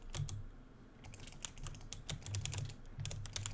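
Clicky computer keyboard during a Minecraft Bedwars game, with rapid irregular bursts of sharp keystrokes and short pauses between them, heard close and without talk.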